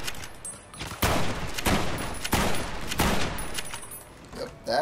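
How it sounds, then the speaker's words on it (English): A 10-millimeter pistol firing in Fallout: New Vegas, with several sharp shots in quick, uneven succession over a noisy background. "that one is just picking at me with a 10-millimeter pistol"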